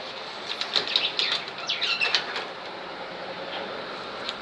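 Finches fluttering and flapping their wings inside a bird aviary, a burst of soft, quick wingbeats and rustling near the start, then quieter, sparse flutters.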